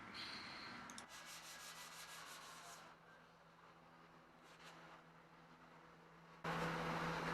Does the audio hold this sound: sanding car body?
yes